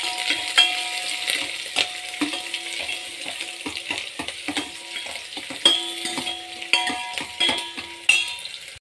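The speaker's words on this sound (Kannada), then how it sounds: "ಈರುಳ್ಳಿ ಫ್ರೈ ಆಗಿದೆ" Onions and curry leaves sizzling in a pan for a sambar, a steady close frying hiss broken by repeated scraping clicks of a spoon stirring against the metal, with no talking.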